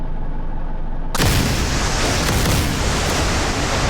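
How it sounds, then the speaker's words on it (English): A massive launch of hypersonic missiles bursts in after a low rumble, becoming a loud, sustained roaring blast of broadband noise that holds steady for several seconds before cutting off. "first thing you're going to see is this incredibly massive launch of hypersonic missiles"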